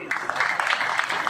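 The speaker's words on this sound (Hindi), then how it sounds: "और जोरदार तालियों से सबका स्वागत करिए।" Audience at a public gathering in Vidisha clapping to welcome guests, a short burst of dense applause from a nearby crowd.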